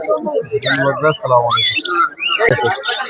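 Small birds chirp and tweet among market stalls in Old Dhaka, with doves among the caged birds, the calls rising and falling in short bursts over continuous talk from vendors and buyers close by.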